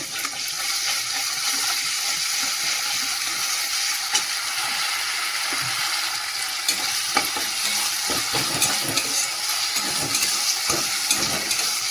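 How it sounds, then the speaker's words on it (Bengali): Ginger and garlic fry in hot oil alongside browned onion, giving a loud, continuous sizzle with scattered stirring clicks and scrapes against the pan throughout. "তার মধ্যে যে আদা রসুন দিয়ে দেবো তেলের মধ্যে।"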